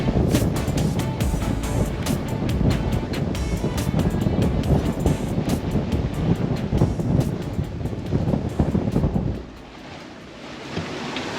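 Strong wind of about 22 to 25 knots and breaking waves batter a sailboat crossing the Alenuihaha Channel from Maui to the Big Island, a loud steady roar of gusts and surf that drops away abruptly near the end.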